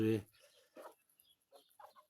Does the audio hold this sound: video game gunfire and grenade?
no